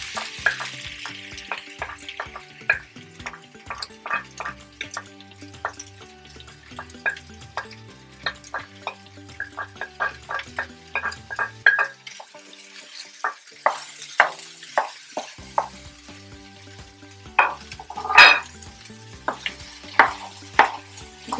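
Bell pepper added to a pan of frying potatoes and duck sausage: steady sizzling runs underneath repeated, uneven scrapes and knocks of a utensil stirring against the pan, close and clear with no talk.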